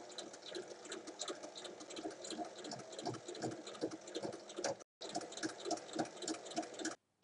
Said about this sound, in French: Maintenant, je vais venir faire une surpiqûre de chaque côté.